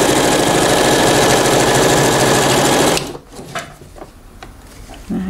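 A sewing machine stitches a ruffle onto a skirt with a one-centimetre seam allowance, running loud and steady for about three seconds before stopping, followed by faint handling clicks and rustles.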